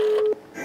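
A rotary dial telephone, restored at a repair café and rewired so that dialling a number starts a little melody, gives a steady electronic tone followed by faint mechanical clicks and a soft rising note.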